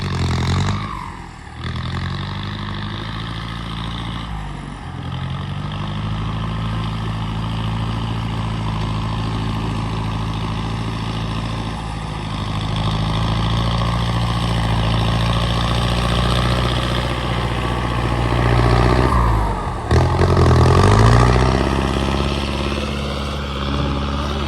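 Truck engine idling and revving at a land-filling site, a loud, near, low rumble that swells at times over about twenty-four seconds.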